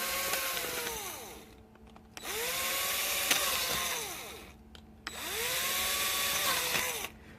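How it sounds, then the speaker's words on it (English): A lightweight power drill bores into a 3D printed snow blower part in three separate bursts, each whine rising and falling in pitch as the bit spins up and bites, with short pauses between. "I highly recommend this specific drill"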